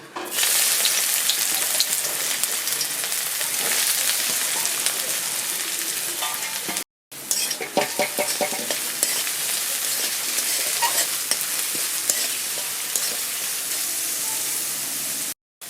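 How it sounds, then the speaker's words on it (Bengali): Chopped onions fry in hot oil in a pan for tomato stuffed with potato and spice filling, a loud steady sizzle with stirring scrapes, broken by one brief silent gap midway. "গরম হয়ে গেছে আমি দিয়ে দেবো পেঁয়াজ কুচি"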